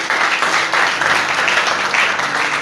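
Church congregation clapping in sustained, dense applause at a worship service, steady and fairly loud throughout with no break.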